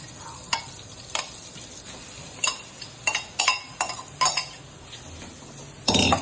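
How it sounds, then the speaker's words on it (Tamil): Marinated prawns going into melted butter in a pan, a quiet steady sizzle under repeated sharp clinks and scrapes of a spoon stirring against the metal, ending in a louder burst of frying. "நம்ம மேரினேட் பண்ணி வச்சிருந்த ப்ரான்ஸ் எடுத்து இதில் ஆட் பண்ண போகிறோம்"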